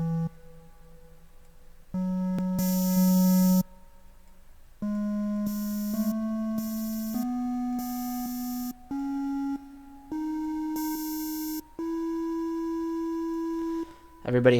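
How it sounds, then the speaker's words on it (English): A normal musical scale played as synth tones: eight clean, steady notes stepping upward one after another, each held about a second with brief gaps, bright and close with no talking. "So, here's a normal scale."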